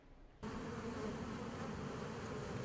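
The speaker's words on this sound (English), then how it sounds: "With buzzing bees hard at work" Bees hard at work buzz in a steady, dense drone that begins abruptly and holds evenly, with no voices.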